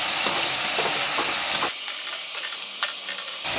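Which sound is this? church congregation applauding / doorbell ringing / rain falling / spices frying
spices frying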